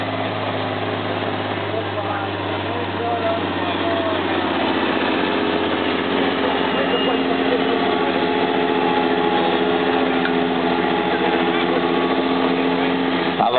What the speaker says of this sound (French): va donc chauffer le tracteur